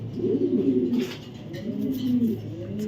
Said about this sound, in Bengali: পাকিস্তান গ্রিজেল মেল কবুতর